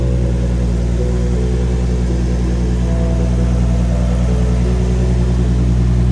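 A Nissan 350Z engine runs steadily close by, a constant low rumble with a mid-range drone and a slight rise in revs, with no talking.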